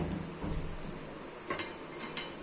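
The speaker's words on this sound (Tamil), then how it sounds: "இப்போ இதில் கீரையை போட்டு நல்லா மிக்ஸ் பண்ணி விட்டுக்கலாம்" Amaranth greens being stirred into cooked rice in a pot, with a few light metallic scrapes and clinks of a spoon against the vessel over a soft background hiss.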